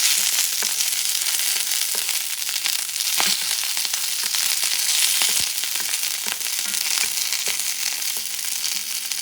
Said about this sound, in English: sauteing some bell peppers, 3 different colors, 3 slightly different flavors